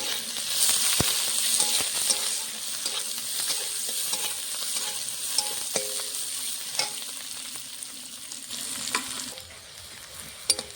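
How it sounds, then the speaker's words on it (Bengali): Chopped garlic and onion fry and sizzle steadily in hot oil, with a continuous close hiss and occasional clicks of stirring, no voices. "আমার পেঁয়াজটা রসুনটা লাল লাল করে ভাজা হয়ে গেছে।"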